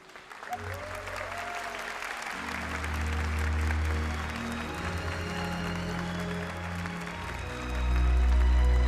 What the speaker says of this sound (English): A huge round of applause here for the third place team of Team Subaru, for Danny Solis, for Kylian